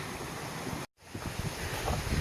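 Woods Creek in Kings Canyon flows along the trail, giving a steady broadband rush of moving water mixed with wind noise. A brief dropout cuts in near the start, and then the rush continues without talk.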